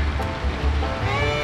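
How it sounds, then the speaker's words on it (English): Small creek on Mount Hood's Timberline Trail near Newton Creek, a steady rushing and gurgling of flowing water, close and continuous with a low rumbling undertone. "Beautiful little creek"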